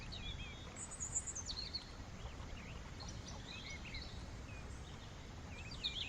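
Faint songbird chirps and short whistled phrases come from a tree nearby in a calm spring natural setting, scattered over a steady low outdoor rumble.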